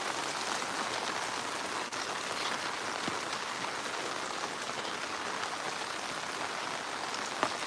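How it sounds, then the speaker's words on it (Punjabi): Heavy rain pours steadily on a village house near Sangrur in Punjab, a dense, constant hiss of drops on surfaces with no pauses and a few sharper drips standing out. "ਕਿੰਨਾ ਮੀਂਹ ਹੈ"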